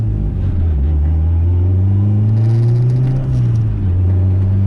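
A car running a straight E85 tune accelerates hard in third gear, its engine drone climbing steadily in pitch as the revs rise, loud and close from the cabin with no talking.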